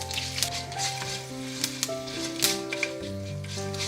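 Rampe and finely chopped chili pods, with curry leaves, fry in oil for a Sri Lankan cabbage stir-fry, a steady close sizzle broken by small pops and crackles, alone with no voices.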